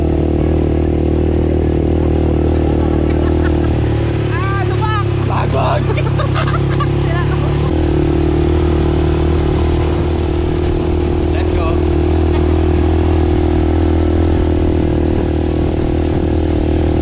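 A steady ATV engine drone runs throughout, loud and close, with voices chattering over it and some clattering in the middle.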